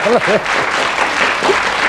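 A 1996 Icelandic TV studio audience claps loudly and steadily in broadband applause, with a voice speaking briefly over the start.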